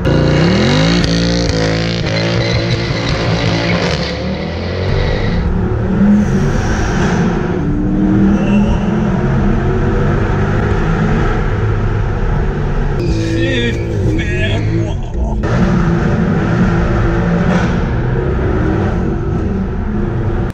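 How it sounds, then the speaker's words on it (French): Mercedes-AMG W204 with its 6.2-litre V8 gives a loud, continuous roar throughout, with steady engine rumble and a few surges as it revs close by. "avec Maed et la W204 et son 6 litres 2 qui rugit"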